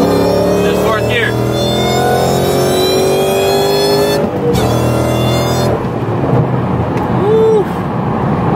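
A 2016 Mustang GT fitted with a Whipple supercharger pulls hard through fourth gear, loud rising engine roar and supercharger whine heard close from inside the car, with a voice talking briefly over it near the end.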